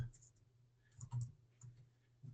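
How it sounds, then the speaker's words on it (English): Typing on a computer keyboard, a few scattered clicks and short bursts of keystrokes at close range over a steady low hum, with no talking. "Now, all I have to do is type in, John Smith."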